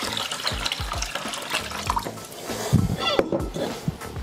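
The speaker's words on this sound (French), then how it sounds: "On retransvase notre eau sale." Dirty rinse water is poured off washed rice in a steady, close splashing stream, with gurgles and drips as the flow shifts.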